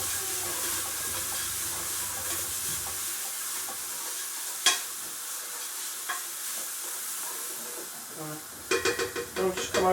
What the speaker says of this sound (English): Just going to give that a stir to combine it all.